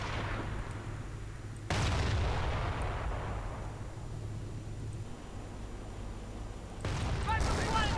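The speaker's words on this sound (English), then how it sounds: "Riflemen getting utterly bombarded by the Flak 88 and the Stuk." Artillery and rocket barrages from a Flak 88 and Stuka rockets pound riflemen in a WWII strategy video game, a continuous dense rumble of blasts with heavier bursts near the start and end, moderately loud.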